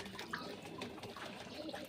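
Water runs over a pigeon's dirty, blackened tail as it is washed, giving a faint, steady splashing and trickling wash that continues without pause.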